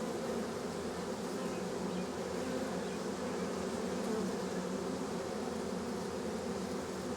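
Honeybees crowd around their queen at the hive entrance, giving off a dense, continuous buzzing drone that holds steady and close for the whole stretch, with no voices.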